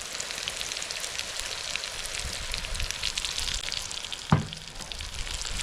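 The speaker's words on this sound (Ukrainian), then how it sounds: "Воно все трошки підсмажиться" Meat sizzles steadily in a large kazan for Uzbek plov with salt and seasonings, a dense continuous frying hiss with one sharp knock of a utensil near the end.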